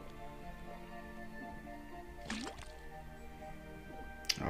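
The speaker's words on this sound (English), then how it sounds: "Then tap the faucet." Liquid from a faucet drips and squishes into a cauldron in the Detective Grimoire video game, faint splashes over a steady tonal music bed, a sharper drip near the end.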